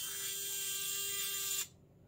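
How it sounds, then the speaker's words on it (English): A Traxxas Pro Scale RC winch motor whirs with a steady, high-pitched electric buzz that runs close and even, then cuts off abruptly, leaving near silence. "Working winch"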